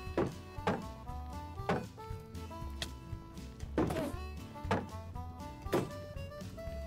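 A Minecraft shield taking hits until it is destroyed, heard as a series of about seven dull, hollow thunks spaced roughly a second apart over quiet background tones.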